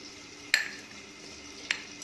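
A spoon stirs potato and pointed gourd curry with a little water in a pot, landing two sharp metallic clinks against the pan over a faint, low simmering sizzle.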